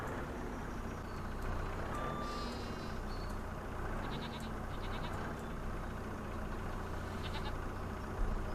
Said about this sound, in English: I like the noises the animals make in this game.